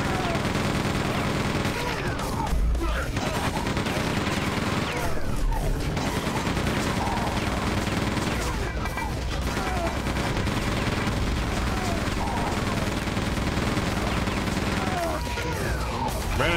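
Sustained gunfire in the video game Quake 2: loud, dense volleys of rapid shots and heavy impacts fill the whole stretch, with a few brief pauses between bursts.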